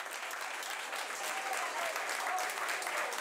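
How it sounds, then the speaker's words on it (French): Hearty, sustained applause from a young audience closing a conference, a dense, even roar of clapping that swells slightly toward the end, with a few faint voices beneath. "La conférence se termine sous les applaudissements nourris d'un jeune public conquis."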